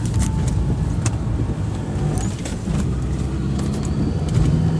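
Subaru crawling over off-road desert terrain at Ocotillo Wells, a steady close engine and drivetrain rumble with rattles and knocks from the cabin, the driver shifting gear partway through.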